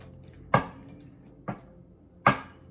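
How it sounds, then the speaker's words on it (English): Tarot cards being shuffled by hand, three distinct riffling bursts spaced about a second apart, close and crisp over a quiet background. "Is that enough shuffling?"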